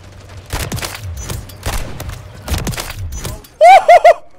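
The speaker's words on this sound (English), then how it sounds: "just line those shots up and you can one-shot tap them" Pistol shots from the RW1 in Modern Warfare 3, several sharp reports spaced about a second apart, followed by a quick burst of short game sounds.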